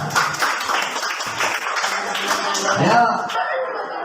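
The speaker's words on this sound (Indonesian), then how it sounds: "tepuk tangan buat kalian" Classroom applause for students, a burst of clapping from many hands mixed with chatter and light laughter, fairly close, with voices heard over it.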